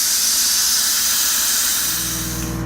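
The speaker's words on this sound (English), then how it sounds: "So the steam is releasing out of the power pressure cooker" A loud, continuous hiss of steam rushing out under pressure from a Power Pressure Cooker XL, steady and close, easing slightly toward the end.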